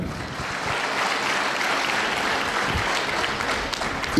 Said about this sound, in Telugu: గట్టిగా ఒకసారి బిగ్ అండ్ అప్లాజ్ అండి